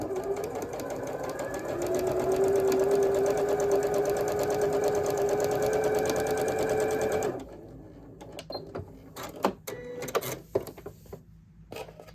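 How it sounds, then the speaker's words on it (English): A sewing machine runs a quarter inch seam on quilting fabric, a rapid steady mechanical whir for several seconds that stops abruptly, followed by quiet handling clicks and fabric rustles. "now I can sew my 1/4 inch seam"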